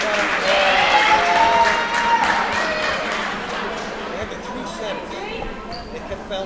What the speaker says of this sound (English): Please give a round of applause to Amira Trueblood.